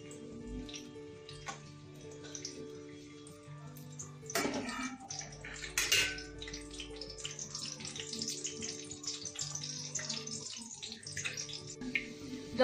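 Finely chopped garlic frying in hot oil in a kadhai for desi-style masala pasta, a steady crackling sizzle throughout with a brief louder burst of spitting and a few clinks partway through.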